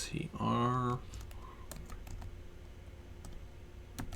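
Someone types on a computer keyboard with scattered, quiet key clicks and occasional sharper taps, following a brief voice at the start.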